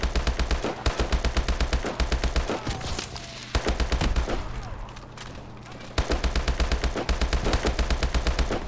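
Call of Duty: Advanced Warfare gunfire, rapid loud automatic bursts in a steady rhythmic stutter, pausing briefly midway before resuming, with faint voices and game effects underneath.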